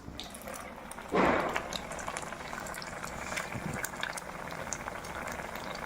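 Sel roti batter frying in hot oil during Tihar, giving a steady close bubbling sizzle with one brief louder spatter burst early on.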